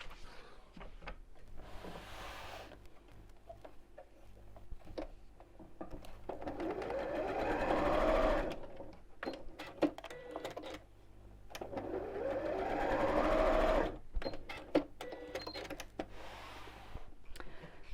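A sewing machine stitching across the folded ends of a fabric channel for a scallop-top gift bag, two sustained runs of rapid whirring stitches, each rising and stopping, with quiet handling between.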